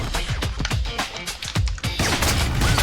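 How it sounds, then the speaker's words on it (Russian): Rapid bursts of gunfire from the video game Mayhem Brawler, a quick string of sharp shots followed by a denser, louder volley with crashing noise. "На тебе выстрел."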